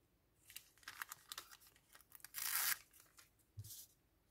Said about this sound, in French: Est-ce qu'on met un bout de scotch